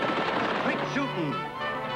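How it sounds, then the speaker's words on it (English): Quick gunfire rings out in a rapid burst of sharp shots with ricochet-like whines, loud and close, in an old Western setting. "Quick shooting."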